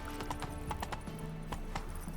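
Galloping hooves of a horse in The Witcher 3, a quick steady clip-clop rhythm close by with a brief whinny, under game music and ambience.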